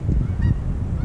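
Geese or similar waterfowl honk near a pier, a few short nasal calls rising over a dense low rumble of wind or water, fairly close and with no talking.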